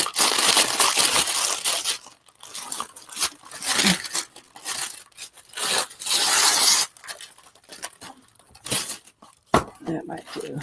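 Crinkling and rustling of wax paper being handled and torn close by, in bursts with pauses, while a person talks in between.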